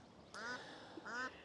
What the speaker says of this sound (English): looks like ducks are playing in the pond right now.